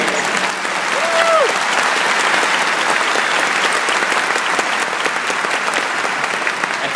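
A big arena crowd at a police academy graduation claps continuously for the awardees, a loud, dense and steady wash of applause that holds at an even level throughout.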